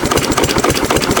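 A 6 HP Witte diesel engine running, a loud close rhythmic chugging with regular firing pulses and a low mechanical knock, heard alone.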